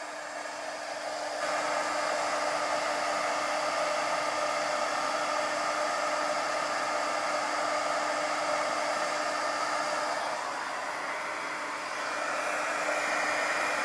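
A handheld heat embossing tool running steadily over a stamped card, giving a constant loud hair-dryer-like whoosh with a faint hum, briefly dipping around the middle before resuming at full strength.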